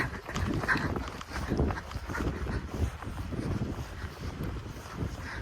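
Cold wind buffets the microphone in a steady, rumbling rush in a village while cattle are penned, with gusty low noise throughout and no clear voices.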